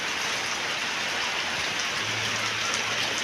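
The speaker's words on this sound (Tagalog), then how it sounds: "Inabot pa po ng ulan." Rain falls steadily and heavily outdoors, a dense, even patter on the surfaces around, with no voices.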